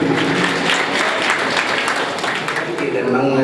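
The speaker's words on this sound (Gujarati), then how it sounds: "આપણે એમને તાળીઓના ગડગડાટથી વધાવીએ" A crowd at a Kutchi Rajgor Samaj community gathering gives a loud, continuous round of applause to welcome a singer, with voices mixed into the clapping throughout.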